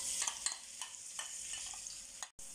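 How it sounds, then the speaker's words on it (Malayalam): Three sliced onions fry in hot sunflower oil in a pan, a continuous bright sizzle broken by soft scraping stirs, close by and without speech, cutting out briefly near the end. "എണ്ണയൊന്ന് ചൂടാകുമ്പോൾ നമ്മൾ അരിഞ്ഞു വെച്ച 3 സവാള ഇതിലേക്ക് ചേർത്ത് കൊടുക്കാം"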